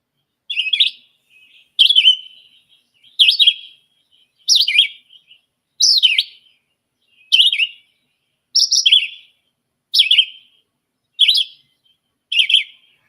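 Recorded song of a red-eyed vireo played back, a clean series of ten short, separated warbled phrases repeated at steady intervals of about one and a quarter seconds, clear and alone.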